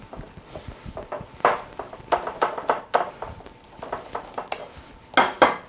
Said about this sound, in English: Let's mix all that together.